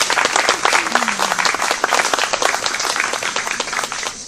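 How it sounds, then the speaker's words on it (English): An audience at a 100th birthday celebration breaks into applause, dense clapping close by with a brief voice rising in the middle, continuing steadily throughout. "Let's give her a round of applause."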